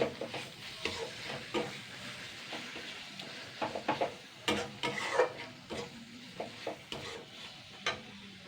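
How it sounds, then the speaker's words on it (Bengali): Fish eggs stirred in fish oil in a pan, with a soft, steady sizzle under repeated scraping strokes of the spoon, fairly quiet and close, with no talking. "মাছের তেলটা দিয়ে ভালো করে এবার নাড়াচাড়া করব"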